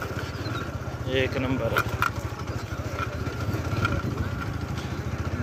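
A well-maintained motorcycle idles close by with a steady, even low putter, while someone talks over it.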